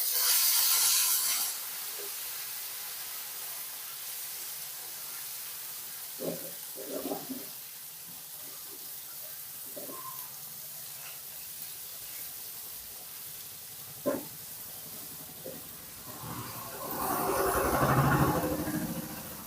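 Okra for bhindi masala fries in a pan, giving a low steady hiss with a few scattered knocks of stirring and louder bursts of sizzle near the start and end.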